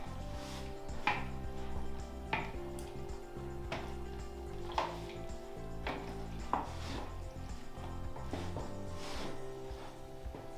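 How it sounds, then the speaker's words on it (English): Pasta with tomatoes is stirred in a pot, giving repeated light clinks and scrapes of a utensil against the pot at a steady pace over a continuous low background. "I'm just going to give it a good stir so I can get all the juices of those tomatoes and everything"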